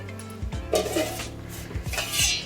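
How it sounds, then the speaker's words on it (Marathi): A lid goes onto a pot of Hyderabadi chicken dum biryani with a metallic clank and scrape, followed by a few light clinks of cookware, close by and without talking. "तर आता मी याच्यावर झाकण ठेवते"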